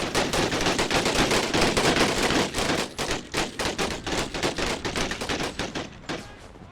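Rapid sustained Gatling gun fire in Empire: Total War, a dense loud stream of shots that breaks into distinct repeating bursts toward the end, with no voices.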